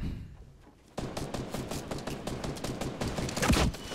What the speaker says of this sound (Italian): headshot col cecchino nuovo, Steph.